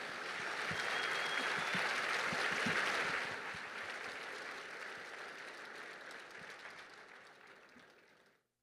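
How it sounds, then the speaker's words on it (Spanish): Audience applause after a personal testimony at a national family movement gathering, a loud sustained round of clapping from a large crowd that slowly thins and fades out. "Un fuerte aplauso,"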